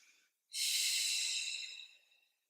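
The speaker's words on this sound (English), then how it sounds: "Breathing." One long, audible exhale during a Pilates abs and hamstrings exercise, a soft airy breath lasting over a second before fading out, with a faint earlier breath.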